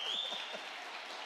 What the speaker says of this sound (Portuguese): Fique de pé e aplaude aí.